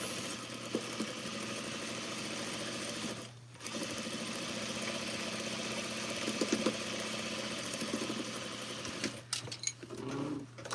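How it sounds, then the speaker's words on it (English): A sewing machine stitches a half-inch seam on a pocket bag, running in a steady, close mechanical whir with one brief pause before resuming and a few clunks near the end. "I'm sewing this with a 1/2 inch seam allowance."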